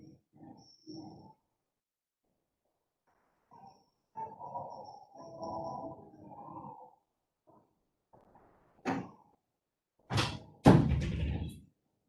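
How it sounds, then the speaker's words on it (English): A room door is shut partway through a lecture recorded at home: soft shuffling and movement build up, then a sharp latch click and two firm, close wooden thuds as it closes. "Let me close the door real quick."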